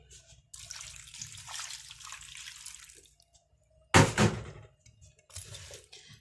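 Water splashes and pours into a cooking pot for a few seconds, then a short loud gush follows, with quieter trickling after it.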